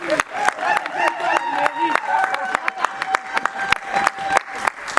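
Wedding guests applaud and cheer at a church ceremony, scattered sharp claps running throughout alongside shouted voices and ululation-like calls, a lively close crowd.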